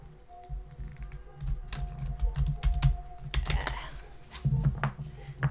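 Tarot cards from the Light Seer's Tarot deck being shuffled by hand, a run of soft riffling flicks and papery taps at close range with no talking, rising and falling in uneven bursts.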